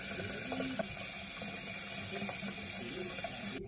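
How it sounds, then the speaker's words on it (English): Tap water runs steadily into a sink during face washing, a close, continuous splashing hiss with faint bumps of hands in the water. "I'm gonna wash my face now."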